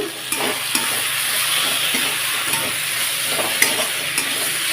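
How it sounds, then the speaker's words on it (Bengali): Cabbage with ground cumin and ginger paste stirred in a frying pan, a loud close sizzle with scraping strokes and occasional clicks of a spoon against the pan. "মশলাটা দিয়ে একটু ভালোভাবে নেড়ে চেড়ে নেব"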